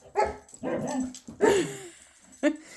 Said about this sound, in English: with these dogs that are now acting up